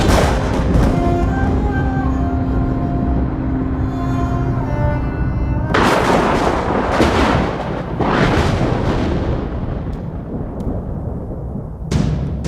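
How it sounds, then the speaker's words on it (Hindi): Gunfire in a dramatic scene from a Hindi-dubbed South Indian action movie. Booming, loud blasts burst in at intervals over a dense musical score, with a final sharp crack near the end. "मार दी सारी गोलियां उसकी छाती में।"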